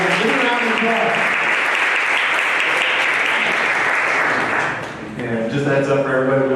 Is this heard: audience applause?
yes